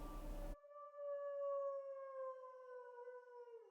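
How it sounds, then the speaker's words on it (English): A dog or wolf howl in the video game Tsukihime rises after a brief burst of noise: one long, sustained, clear tonal wail that holds steady for a few seconds and sags in pitch at the end. "Some kind of wolf? Dog? A strange cry washes over my ears like a wave."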